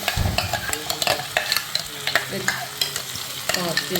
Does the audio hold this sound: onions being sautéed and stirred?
yes